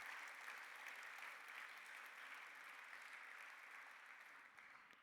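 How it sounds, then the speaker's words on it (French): An audience at the Prix des 5 Continents de la Francophonie award ceremony gives soft, distant applause that holds steady and then gradually fades. "Je pense qu'elle mérite des applaudissements."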